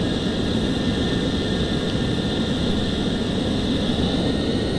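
An F-14 jet taxis in Flight Simulator X, giving a steady, loud engine roar with a constant whine and no change in pitch or level throughout.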